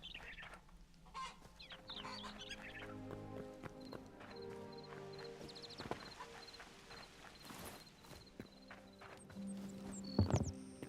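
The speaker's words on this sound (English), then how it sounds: "Hi, chickens" Chickens in the Hytale video game, with scattered clucks and short bird calls over soft clip-clop footsteps and faint game ambience, quiet overall and without talk.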